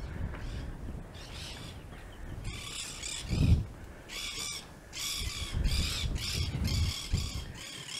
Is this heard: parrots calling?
yes